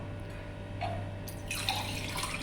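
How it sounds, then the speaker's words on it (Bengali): Water poured into a pot of fried spice paste for basmati rice, a steady close splashing that grows fuller and louder halfway through, with no talking. "তো এখন আমি পানি দিয়ে দিব"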